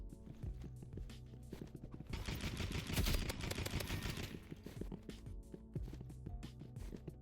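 Gunfire in the shooter game Rivals, with scattered distant shots that swell into a brief dense burst of rapid fire midway, then thin out again at low volume.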